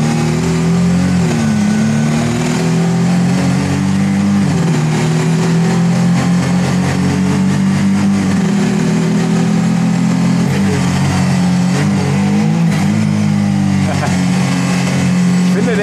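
A Can-Am Maverick R off-road side-by-side with a 240 hp engine drones loudly and steadily close by, its revs rising and falling in a few swells, while a person talks over the engine throughout.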